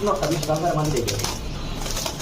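Domestic pigeons coo in low, soft, rolling calls close by, with voices talking over them.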